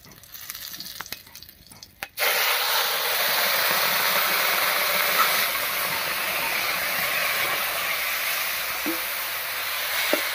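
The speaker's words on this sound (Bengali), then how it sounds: "ফোড়নটা ভাজা হয়ে গেছে, এবার নামিয়ে রাখা শাকটা দেব" Faint clatter gives way to a sudden, loud rush of sizzling as red amaranth greens hit hot tempering oil, a dense steady hiss that carries on undiminished to the end.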